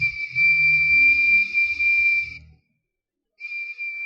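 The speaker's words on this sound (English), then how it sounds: "when it's blown through, it plays one sharp note. More screech than song." An ancient 3,000-year-old whistle is blown in one long, shrill, piercing steady note, then after a second of silence a shorter second blast follows, close and loud with no talk.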